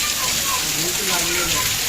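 Heavy, sudden May rain with storm wind pours in a dense, steady roar, and someone speaks over it.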